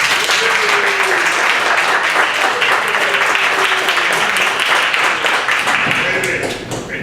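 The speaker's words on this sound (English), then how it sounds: "I think she needs a round of applause" Sustained applause fills a gathering after a gala, a dense, even wash of clapping from a crowd that thins slightly near the end, with a few voices calling out over it.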